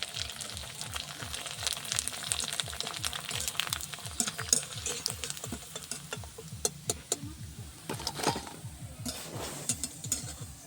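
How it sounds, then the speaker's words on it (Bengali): Papads frying in very hot oil, a steady crackling sizzle with dense rapid pops and occasional sharper bursts, close and continuous, with faint pan and utensil sounds underneath. "তেল খুব তেতে গেছে, লাল হয়ে গেছে। এর পাঁপড়গুলো সব ভেজে নেব।"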